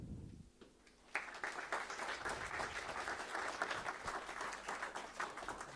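Applause from an audience at a talk on ecosystem services and biodiversity breaks out after a short pause and carries on steadily, with dense, even clapping heard at a moderate distance.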